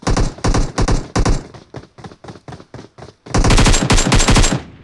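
Loud rapid bursts of automatic gunfire from a gun in the mobile battle-royale game PUBG Mobile, several short volleys and then a longer sustained spray.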